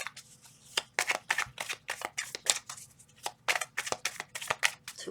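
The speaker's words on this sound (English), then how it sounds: "Two more shuffles." A deck of tarot cards being shuffled by hand, a rapid series of crisp riffling bursts and snaps repeating steadily, close and fairly loud with no talking.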